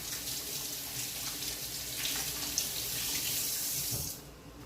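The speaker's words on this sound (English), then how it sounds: "I'm going to go ahead and wash my hands." A kitchen tap runs into a sink for hand washing, a steady hiss of water that grows slightly fuller midway and then cuts off near the end.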